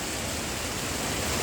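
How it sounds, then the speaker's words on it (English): Heavy, driving rain pours onto an anchored boat, making a dense, steady hiss that is loud and close. No one speaks during the short stretch. "This is heavy rain. This is pretty heavy, you're right."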